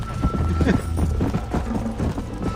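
A horse gallops in Red Dead Redemption 1, its hooves drumming in a fast, loud, close clip-clop rhythm that runs through the whole clip without pause.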